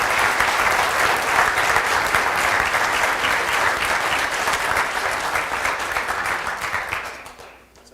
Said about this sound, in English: please, a huge round of applause for this man